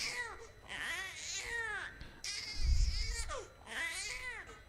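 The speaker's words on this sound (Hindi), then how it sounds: "किसका बच्चा रो रहा भाई?" An infant cries and wails in rising and falling bursts in a large crowded devotional gathering, with a low rumble beneath and no clear speech over it.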